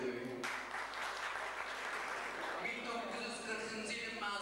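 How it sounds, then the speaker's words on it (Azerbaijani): A crowd at a school reunion breaks into sustained clapping to welcome a guest, loud and steady for several seconds, fading toward the end with some voices beneath. "onu da alqışlayırıq"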